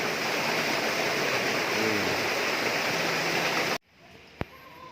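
Water drains from a kiddie pool through a hose with a steady, loud rushing flow that stops abruptly near the end, leaving near quiet and a single faint click.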